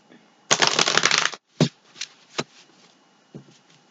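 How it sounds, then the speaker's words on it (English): A deck of tarot cards is riffle-shuffled in one quick burst, followed by a few sharp taps and slaps of cards being squared and cut. "One more shuffle and we're going to cut."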